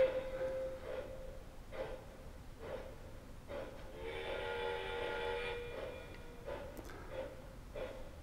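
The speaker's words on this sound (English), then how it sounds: "Those are the sounds of the Hiawatha, so a famous streamlined Milwaukee Road steam locomotive." A train clock plays recorded Milwaukee Road Hiawatha steam locomotive sounds at low volume: rhythmic chuffing puffs with a sustained whistle tone in the middle.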